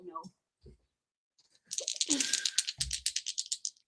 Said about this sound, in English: Roll the damn dice.